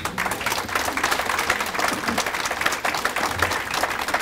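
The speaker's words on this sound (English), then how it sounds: "That deserves applause." Audience applause at the grand opening of a downtown resource center in Richmond, a dense, steady wash of many hands clapping together, fairly close and sustained throughout with no talk over it.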